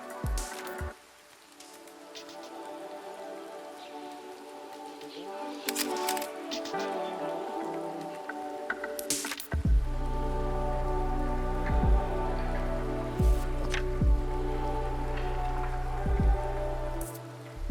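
Rain falling at night near a balcony, a soft steady patter with scattered close drips and occasional heavier drops, fairly quiet and continuous.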